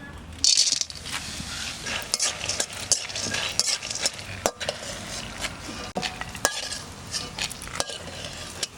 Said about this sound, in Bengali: এবার ডালের বড়ি ভাজবো, সর্ষের তেল দিলাম।